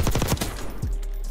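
Rapid automatic gunfire from a rifle fitted with a vertical recoil grip and compensator in Warzone, a fast loud burst of shots that breaks off briefly, then trails into a quieter ringing tail.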